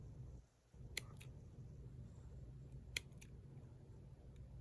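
Scissors snip notches into tape, two short crisp cuts spaced a couple of seconds apart, each with a quick follow-up click, over a quiet, low background hum.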